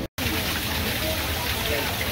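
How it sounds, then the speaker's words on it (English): Steady rushing water from an indoor waterfall at Mitchell Park Domes, Milwaukee, fills the scene, a constant broadband splash, after a brief dropout at the very start. "we have found our first waterfall."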